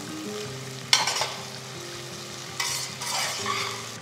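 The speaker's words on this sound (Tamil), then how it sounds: "ஸோ வெங்காயம் கொஞ்சம் கோல்டன் கலர் வர வரைக்கும் இதை நல்லா வதக்கணும்." Onions and green chillies sauté in a pan with a steady close sizzle, broken by a couple of brisk stirring scrapes.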